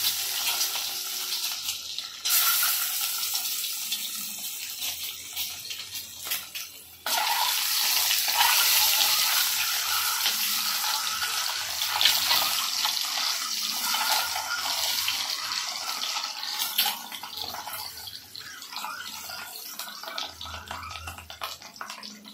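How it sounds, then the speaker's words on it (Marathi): An egg fries in hot oil, a steady dense sizzle and crackle that runs throughout, briefly dipping then resuming louder, with small pops scattered across it and no voices. "आता आपण हे अंडं फ्राय करून घ्यायचं थोडं।"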